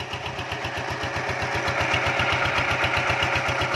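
A Kubota engine drives a water pump outdoors for draining water to catch fish, giving a continuous steady mid-pitched diesel throb with rapid pulsing firing that runs loud and unbroken throughout.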